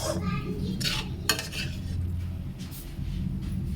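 Pasta being stirred and mixed in a metal pot, with scraping and clinking of a utensil against the pan, a few sharper knocks, and a low steady background hum, no voices.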